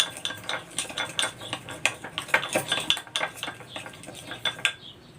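Spoon clinking and scraping against a bowl while kangkong salad dressing of pepper and fish sauce is stirred, a steady run of bright metallic taps and scrapes, close and clear with no talking.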